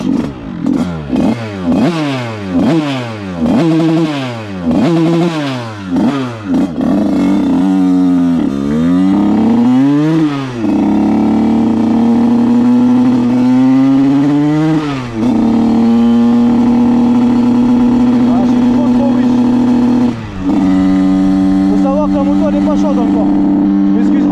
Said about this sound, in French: on va laisser chauffer. Ça fait plaisir que ça démarre au premier coup de kick.